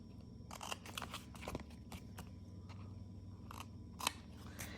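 Scissors snip through excess paper while trimming a butterfly greeting card layer, a series of crisp, close cuts with short crunchy bursts and a sharper snip near the end, no speech.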